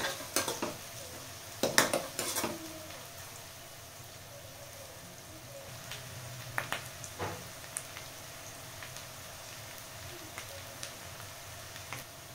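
Curry leaves added to oil in a pan of Telugu-style chicken fry, with a soft steady sizzle under a few sharp clinks and scrapes of a spoon stirring against the pan.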